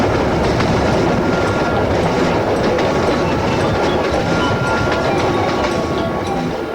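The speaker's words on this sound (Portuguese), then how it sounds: "de onde sai o trem para Cusco" A train rolls steadily along rails en route to Cusco, Peru, with continuous loud rumble and faint clickety-clack of wheels over track joints, no voices.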